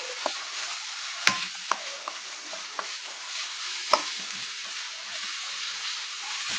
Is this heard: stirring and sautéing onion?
yes